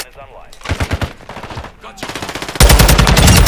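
Automatic fire from a TAQ-56 rifle in Modern Warfare 2, in a quick series of loud bursts that gives way to one unbroken, very loud stream of shots near the end.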